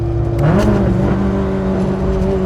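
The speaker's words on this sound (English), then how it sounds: "This is the real Kanjo car, the Honda Civic." A Honda Civic Kanjo car's engine revs loud and steady on the Loop at night, a close, continuous drone that climbs slightly in pitch early on, then holds.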